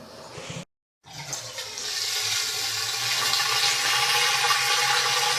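Flood-test water draining out of a shower pan liner after a balloon plug is pulled, a steady, close gurgling rush that builds after a brief gap and keeps flowing evenly, no talking.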